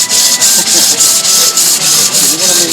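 Wood being sanded by hand with great winter horsetail stems at a medieval craft day, loud rhythmic rubbing strokes, about eight back-and-forth passes, close and alone.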